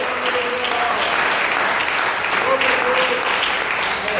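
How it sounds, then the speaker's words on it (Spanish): A church congregation applauds during a Spanish-language sermon, a loud, sustained wash of clapping that holds steady throughout with faint voices mixed in. "Demos un aplauso al Señor."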